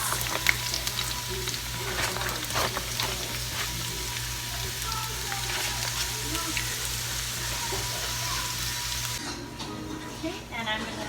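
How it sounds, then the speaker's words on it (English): Jalapenos and onions sauteing in a hot pan give a steady sizzle throughout, with a low hum and a voice talking over it; the frying drops away near the end. "Jalapenos and the onions and saute those for about 5 minutes."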